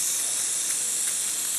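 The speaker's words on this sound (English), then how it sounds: "And now I will cool this down using this cold spray." A can of cold spray hisses steadily onto a puck heated to 300 degrees for a rotary vane air compressor. The hiss is close, loud and unbroken for the whole moment, with no talking.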